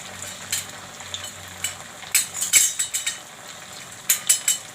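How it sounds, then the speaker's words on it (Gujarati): Puffed rice vadi frying in hot oil in a pan, a steady sizzle broken by repeated clinks and scrapes of a metal utensil turning the pieces, close and fairly loud. "તો આપણે ધીરે ધીરે આને તળવાના છે,"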